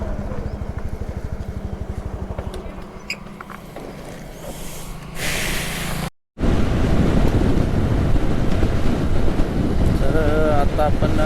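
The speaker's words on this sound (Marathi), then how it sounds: "मांडवगण वारं भरपूर वाहत आहे." Strong wind buffets the microphone on a TVS Jupiter scooter ride along a rural road, a loud continuous roar and rumble that briefly cuts out before returning with a voice talking over it.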